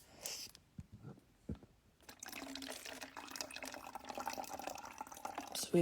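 Water pours from a plastic bottle into a glass in a steady, close trickle lasting several seconds, after a few faint knocks and clicks of handling in a quiet room.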